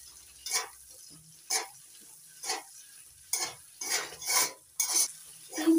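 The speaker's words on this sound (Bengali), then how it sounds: "এবার মিডিয়াম ফ্লেমে ভেজে নেব।" Yellow, red and green bell peppers fry over a medium flame, with repeated bursts of scraping and sizzling as a utensil stirs them about every second. The clatter is close and clear, with quiet moments between strokes.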